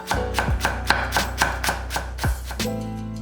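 A knife chops green onion diagonally into thin 0.3 cm slices on a board, with about eight crisp, evenly spaced strikes close up and no talking.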